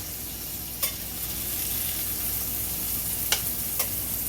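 Seafood for jambalaya sizzles steadily in a hot pan as it is stirred with a small spatula, with a few sharp scrapes and clicks of metal against the pan.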